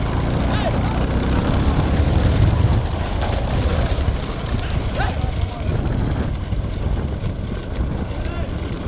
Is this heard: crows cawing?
no